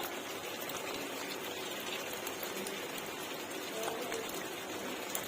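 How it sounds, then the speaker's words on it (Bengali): Spiced potato curry (aloo dum) sizzles and bubbles steadily in a pan after water is added, a dense close hiss with no clear pauses and no talk. "এবার দেব একটু জল"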